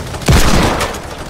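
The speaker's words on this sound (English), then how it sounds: "He's got a machine gun!" Machine gun fire in the video game Fortnite, a short loud burst of rapid shots with a booming onset that fades quickly, heard close and alone.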